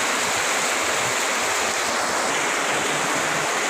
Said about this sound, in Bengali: কঠিন বৃষ্টি